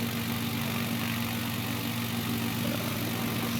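A single aircraft engine in the Microsoft Flight Simulator video game holds a steady, even drone with a constant low hum during a landing approach.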